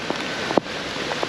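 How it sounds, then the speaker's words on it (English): Rain falling outdoors in La Romana while walking, a steady close hiss of drops with a few sharper individual taps scattered through, no voices. "We're walking in the rain."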